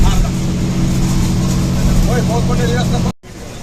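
A crowded bus heads to Jyotiba during the temple fair season, its engine giving a loud, steady rumble from inside the cabin, with faint voices, before the sound cuts out abruptly near the end.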